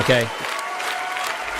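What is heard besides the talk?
audience cheering and applauding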